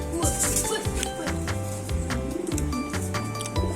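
Domestic pigeons coo as they fight, with repeated throaty, rolling coos up close, mixed with wing flutters and scuffling clicks in a busy, uneven stream.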